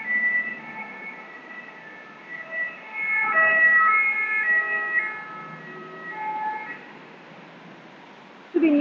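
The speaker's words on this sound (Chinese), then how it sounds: "所以说呢这个会时不时有一些这个救护车的这个声音" An ambulance siren wails on a busy street in Paris, its rising and falling tones sounding moderately distant over traffic noise and swelling and fading over several seconds.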